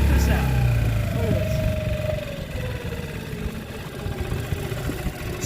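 A Hangkai 6.5 outboard motor idles in gear on a slow-moving boat, a steady low mid-pitched engine drone with a faint whine, while someone talks over it.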